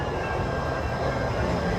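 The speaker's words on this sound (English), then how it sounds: "monorail is going by" Disneyland monorail passing close by, a loud continuous rumbling roar with rail-like hum that holds steady throughout, no talking over it.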